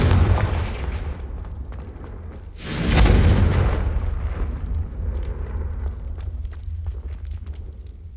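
A loud fire-spell blast from the Hogwarts Legacy duel, Confringo, bursts with a deep rumbling boom that swells and slowly fades beneath a continuous battle din.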